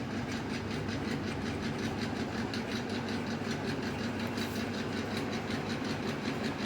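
An electric hair clipper buzzes steadily close by during a zero-cut men's haircut, a dense, continuous mechanical drone with a fine rapid rattle, running without pause and with no voices over it.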